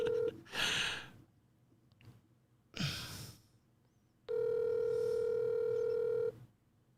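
A telephone rings out unanswered in loud electronic tone bursts, ending in a long, steady ring, with breathy sounds in between.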